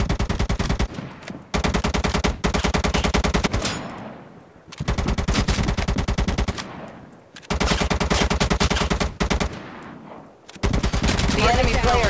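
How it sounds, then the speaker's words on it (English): Rapid automatic gunfire from an enemy player in the mobile shooter ZOZ: Final Hour, loud close bursts of fast regular shots separated by short pauses, four volleys in all. "An enemy player's firing on you"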